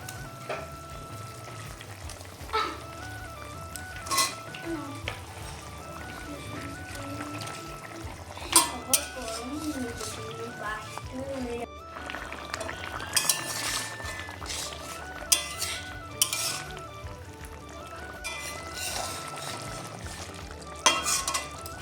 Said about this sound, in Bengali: এখন এই ঝোলের মধ্যে আগে থেকে ভেজে রাখা সামুদ্রিক মাছগুলো দিয়ে দেবো